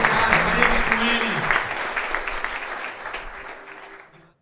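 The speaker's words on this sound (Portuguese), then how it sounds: "aplauda o Senhor" A church congregation claps during worship, the applause loud and thick at first alongside faint music and voices, then fading away until silence.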